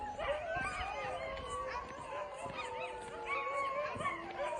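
A dog howls at night outdoors, long wavering cries with yips and whimpers layered together, fairly close and continuous, with no talk over it.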